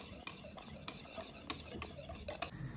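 Crêpe batter with melted butter is stirred in a bowl, heard as soft, close scraping and swishing with light utensil taps in an irregular rhythm, fairly quiet and with no voices.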